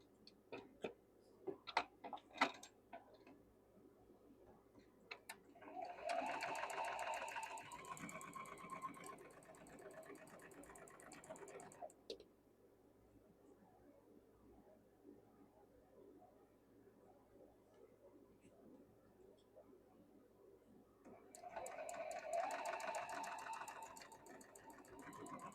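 Sewing machine stitching quilt blocks in two bursts of steady mechanical whirring, the first running about six seconds and the second picking up near the end, with quiet clicks and handling noise between them.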